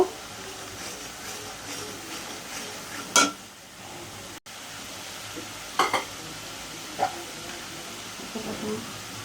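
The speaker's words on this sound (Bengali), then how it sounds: "পেঁয়াজটা একটু ভেজে নেব।" Onion sizzles steadily in a pan for chicken biryani, a soft continuous hiss broken by a few sharp clinks and scrapes of stirring.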